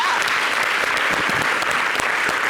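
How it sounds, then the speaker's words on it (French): Loud, dense studio audience applause on a French-language TV talk show, continuous clapping with a few sharper close claps popping out over the steady roar, no talk on top. "Franchement, ça s'applaudit, s'il vous plaît."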